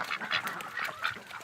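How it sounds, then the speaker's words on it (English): Wild ducks quacking outdoors in freezing winter, a rapid run of nasal honking calls overlapping one another at close range, loud and busy, with no voices. "So that's the first wild ducks that we've had, because all we've been having is Canada geese."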